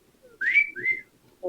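A person whistles a short rising note followed by a second shorter note, close and clear in a quiet room, with a brief voiced sound right after.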